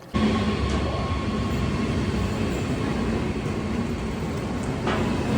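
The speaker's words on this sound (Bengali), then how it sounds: "এখন আমাদের ট্রেন চলে এসছে" A train arriving at a station in Germany gives a loud, steady rumble that holds evenly from start to finish, with no voices heard.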